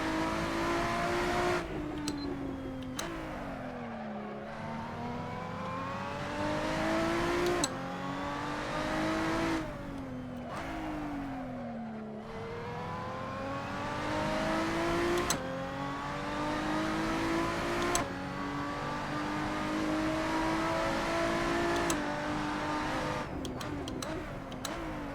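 Race car engine in a racing video game revs up and down repeatedly through gear shifts, rising and falling pitch with sharp cuts between gears, loud and close, with no talk.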